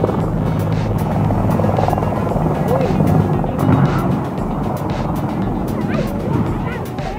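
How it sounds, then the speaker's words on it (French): A military helicopter lifts off beside a football pitch and snags in power cables, its rotor thumping loudly and steadily throughout, with a dog yapping and voices over the din. "Un hélicoptère militaire s'est emmêlé dans les câbles électriques d'un terrain de foot pendant le décollage."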